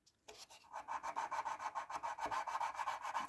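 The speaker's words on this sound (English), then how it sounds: "we have to file a little bit down" A file rasps rhythmically across a tanpura's jawari bridge, a quiet, steady back-and-forth scraping of about a dozen close-up strokes, alone.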